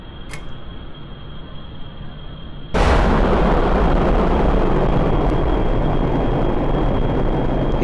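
A missile in Kerbal Space Program ignites with a sudden loud burst after a quieter engine hum, then a sustained, heavy roaring rumble that fills the rest of the scene.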